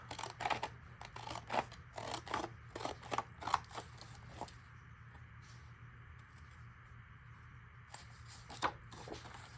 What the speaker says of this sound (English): I'm going to use my ripple scissors instead of tearing.